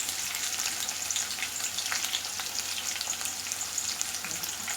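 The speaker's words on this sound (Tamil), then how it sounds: "இது நல்லா வதங்கட்டும்." Shallots sautéing in oil for a Tamil tomato gravy give a steady, close sizzle and crackle with small pops, continuous throughout with no voices over it.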